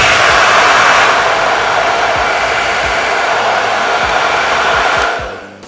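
A Dyson Supersonic hair dryer blows in a loud, steady whoosh close by for about five seconds, then cuts off and winds down.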